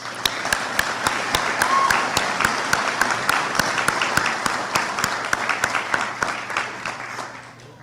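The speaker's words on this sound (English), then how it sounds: "So another clap for Brad Jordan." Commencement audience applauds at a university graduation ceremony, a dense wash of clapping with distinct sharp claps punctuating it at a steady rhythm, under a faint constant hum.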